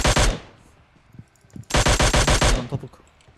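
Loud automatic gunfire in PUBG Mobile: a short rapid burst at the start, then quieter scattered shots, then a second sustained burst of quick evenly spaced rounds close by, with no talking.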